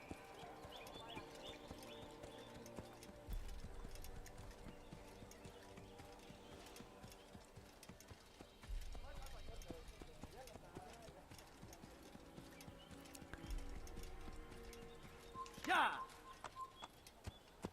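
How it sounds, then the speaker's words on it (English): Horse hooves clip-clop in a steady rhythm amid Assassin's Creed (2007) game music and ambient sound, with a few louder bursts of activity. "Yeah, there's a horse up there. Beautiful horse as well."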